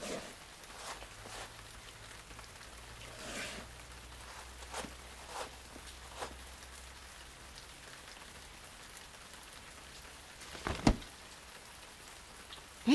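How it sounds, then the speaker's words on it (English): Steady rain falls on a garden, a continuous hiss of drops on surfaces with a few sharper close drips and taps, including one brief louder knock near the end; no talking. "It's raining a lot."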